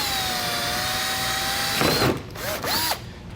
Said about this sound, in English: just take a drill bit and just kind of drill out that center